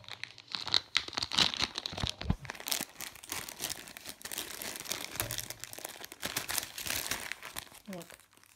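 A plastic packet of soap-making supplies is opened one-handed, with close, irregular crinkling and tearing that go on throughout.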